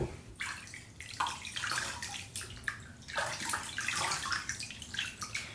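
Water splashes and pours continuously as a face is rinsed by hand over a sink, with uneven splashing bursts close by and no talk.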